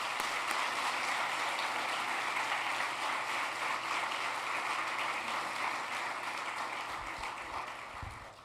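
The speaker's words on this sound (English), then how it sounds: "I think we should give her a round of applause" A round of applause from the audience at a Turning Point USA event, dense and steady clapping that holds at an even level for several seconds before easing slightly near the end.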